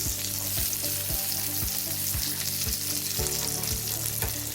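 Onion, garlic, curry leaves and coconut fry in a pan for groundnut chutney: a steady, close, loud sizzle broken by regular spatula strokes about twice a second.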